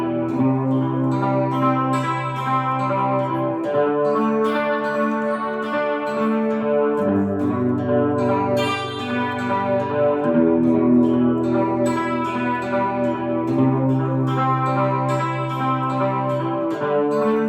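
An electric guitar played through an Electro Harmonix Tone Tattoo pedal with chorus, delay and gain gives sustained, warm, shimmering chords that change every few seconds, loud and close with no talking.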